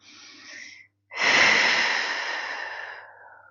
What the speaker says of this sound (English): We're looking for 2 more deep breaths.